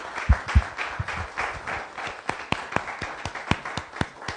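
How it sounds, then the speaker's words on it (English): A small group claps at a Rotary Club weekly meeting, a handful of distinct, fairly sparse claps with a couple of louder ones near the start, close by and moderately loud, tapering into scattered individual claps. "right now a round of applause for great leadership during these troubling times"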